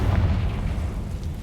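A Confringo blasting curse in a Harry Potter video game detonates as a loud, close, deep explosive boom with a rumbling low tail lasting over a second.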